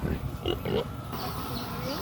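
Pigs waiting to be slaughtered for a wedding feast in Mt. Province grunt and oink in a couple of short bursts over steady outdoor background noise, with someone talking alongside.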